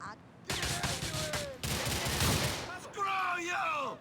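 Sustained gunfire in GTA 4 during a firefight: dense bursts of shots roll out near and loud for several seconds, followed by a short break and then more shooting, with a voice shouting over part of it.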